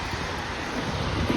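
An Embraer E195 airliner at Fort Lauderdale airport gives off a steady, distant jet engine roar, quiet and unbroken over a short moment.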